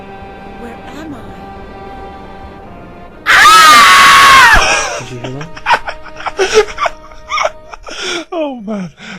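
A loud, strained, warbling scream from a Phantom of the Opera adaptation erupts suddenly and holds for about a second before cutting off, followed by scattered speech.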